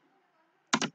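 A close computer keyboard gives a quick burst of several crisp keystrokes after a near-silent pause.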